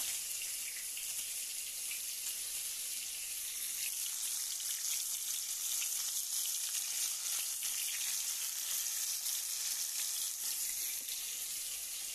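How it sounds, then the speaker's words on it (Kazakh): Flour-coated fish fry in boiling oil with a steady, continuous hiss and crackle that stays even throughout. "Енді дайын болған балықтарды осылай қайнап тұрған майға қуырамыз."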